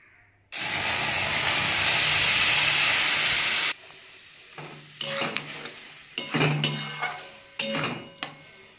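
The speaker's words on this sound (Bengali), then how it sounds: "এবার কড়ার মধ্যে আমি এবার আমটা ঢেলে দেবো।" Raw green mango tipped into a hot kadai lets out a sudden loud sizzling hiss that holds for about three seconds, then dies away into scattered stirring and scraping clatters.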